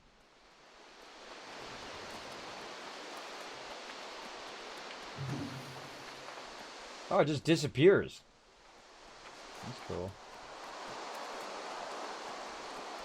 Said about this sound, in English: I hear water running